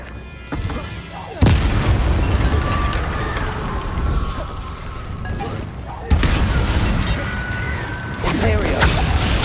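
Bombarda blasting spell explosions in Hogwarts Legacy, heavy booming blasts hitting at intervals over a dense rumbling battle bed, loud and close, with a voice calling out spell names.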